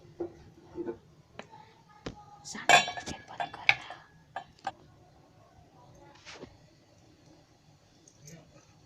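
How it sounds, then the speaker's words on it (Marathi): Cooked Konkani-style chicken is moved from the pan into a vessel with metal utensils, making scattered clinks, scrapes and taps that cluster in the middle. A voice is heard at times. "आता मी ते भांड्यामध्ये काढून घेते."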